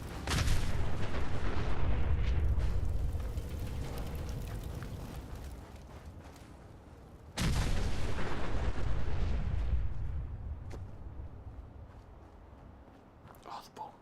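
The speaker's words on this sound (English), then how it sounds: "Oh, the bombs." Bombs explode in Fallout 4 endgame combat, two heavy booming blasts several seconds apart, each a loud sudden roar that rumbles and fades slowly, with a player talking over the action.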